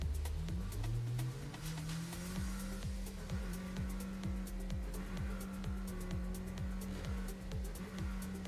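A car driving in a video game, a steady engine drone with a rising and falling pitch, low and fairly faint throughout, with no talking.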